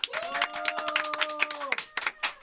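Brisk clapping from a small studio group on a Korean talk show, a quick run of sharp claps over a short sustained musical tone, then a brief pause and a few more claps.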